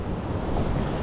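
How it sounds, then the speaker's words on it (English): Choppy sea water sloshing and surging near a fishing platform, a steady, close wash of waves with rumbling, wind-buffeted noise throughout. "There's a lot of water moving around in here."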